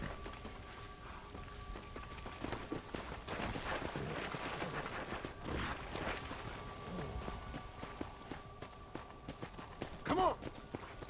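Horse hooves plod along in the undead-infested Western game Red Dead Redemption: Undead Nightmare, a soft, steady clip-clop buried in dense game ambience and background noise.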